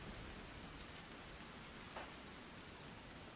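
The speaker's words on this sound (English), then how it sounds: "Oh no, I'm seeing droplets of rain." Steady rain in Sons of the Forest, a soft, even hiss of falling drops with one brief louder patter near the middle, faint and continuous, with no one talking.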